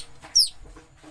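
Orphaned wild waterfowl chicks call near a roadside: one sharp, high peep stands out clearly, with fainter chirps before and after against a quiet background.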